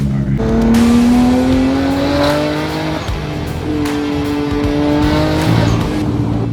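Loud, close engine and exhaust from a Nissan Skyline GT-R R33, climbing steadily in pitch under acceleration, dropping at a shift, then pulling again with a raspy, continuous roar.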